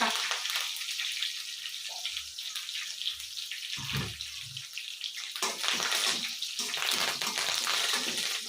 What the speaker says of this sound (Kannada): ನೆಕ್ಸ್ಟು ಕರಿಬೇವು ಹಾಕ್ಕೊತಿದ್ದೀನಿ ಚಟಪಟ ಚಟಪಟ